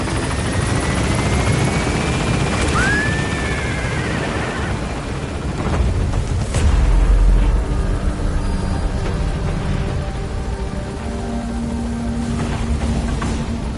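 An extraction helicopter in Metal Gear Solid V lifts off, its steady rotor thrum filling the scene loudly and continuously while the engine pitch wavers and shifts.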